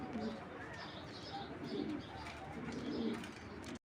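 Caged Belgian-line racing pigeons coo in soft, repeated rolling phrases, a few birds overlapping at close range with faint chirps, moderately quiet and steady until an abrupt stop.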